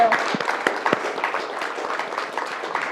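Audience at a talk on women's political participation applauding, a moderate, steady patter of many hands clapping, fairly close, with a few louder claps standing out early and tapering slightly.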